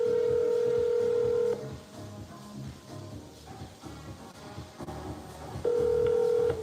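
A telephone being dialed to place a call: a steady dial-type tone sounds, drops away into a quiet stretch of faint background noise, then the same tone returns near the end, close and clear, with no one speaking.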